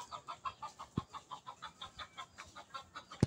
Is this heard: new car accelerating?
no